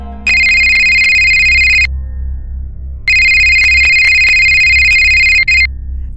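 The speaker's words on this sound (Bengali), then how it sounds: "অফিসের কাজে দেবাঞ্জন বাইরে আছে জানা সত্ত্বেও নিরুপায় হয়ে দেবাঞ্জনকে ফোনটা করলো অদিতি।" A loud electronic phone ringtone plays as a story sound effect, in two long bursts of bright tonal beeping separated by a short pause, with no voices.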